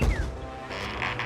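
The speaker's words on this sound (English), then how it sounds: "Unlock the door!" A door unlocks in the fantasy role-playing game Two Worlds, giving a short creaking, mechanical clack followed by a faint rattle. The sound is quiet and brief.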